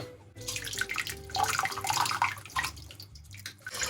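Cold tap water runs and splashes onto a glass bottle in a steady, fairly quiet trickling stream, with no speech over it.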